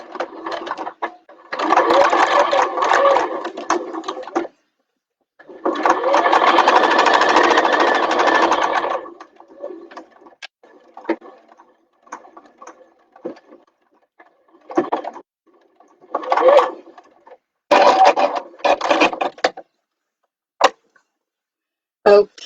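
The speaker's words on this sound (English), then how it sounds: "you can just sew right over it" A sewing machine stitching through soft foam in a bag lining, loud and close, in several bursts of rapid whirring separated by pauses and short stop-start runs, with light handling noises between.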